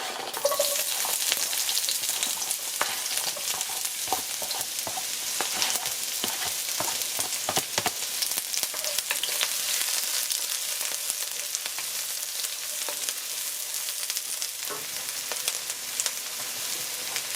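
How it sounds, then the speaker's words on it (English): Onion frying in hot avocado oil in a pot, a loud continuous sizzle with scattered crackles and stirring clatter throughout. "So I'm adding some oil to the pot. I'm using avocado oil."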